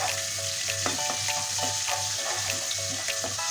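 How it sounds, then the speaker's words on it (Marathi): Garlic and asafoetida sizzling in hot oil for a Maharashtrian val bean dish, a dense continuous fry with a low hum beneath and light intermittent stirring clicks. "अर्धा चमचा हिंग लसूण चांगला परतून घ्यायचं तेलात"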